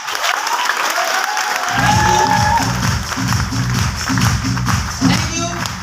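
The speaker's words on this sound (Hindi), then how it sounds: "इस बिजनेस के लिए एक बहुत छोटा ताली हो जाए" An audience applauds at a business seminar, a loud burst of dense clapping that starts suddenly and keeps going, joined by rhythmic beats of background music, with a voice speaking over it.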